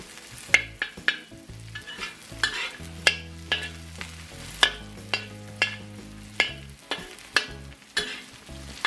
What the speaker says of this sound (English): the onion and garlic are getting toasty in the wok